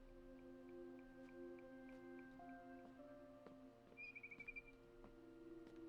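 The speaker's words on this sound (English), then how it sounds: "Then I heard chirping outside my window." Barn swallow chirps in the video game What Remains of Edith Finch come as faint, scattered twitters over a quiet tonal ambient backdrop, with a brief flurry of quick bird notes near the end.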